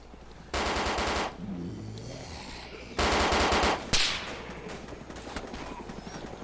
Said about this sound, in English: I'm going to shoot him in it.